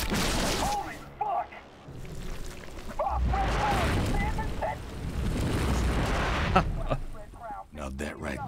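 A bio bomb detonates in the game Prototype 2, with heavy, rumbling booms swelling and fading amid chaotic combat, while a person talks over the blasts.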